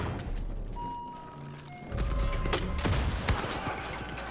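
Grenade launcher fire in Far Cry 5: a few sharp booming shots and blasts ring out over a constant game ambience and music bed, loud and close with short decaying tails.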